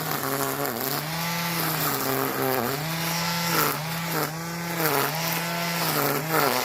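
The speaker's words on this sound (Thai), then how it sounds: "เครื่องเล็กๆสำหรับเล็มหญ้าแบบนี้นะคะเห็นไหมคะ มันจะเป็นครึ่งวงกลมนะคะ" A small two-stroke string trimmer engine runs steadily while trimming grass, with its whine rising and falling in pitch at about one-second intervals as it revs. No voices can be heard over it.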